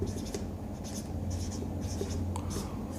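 Pen scratching on paper while a quadratic polynomial is written out by hand for a Class 10 math solution, steady soft strokes with light taps under a low room hum.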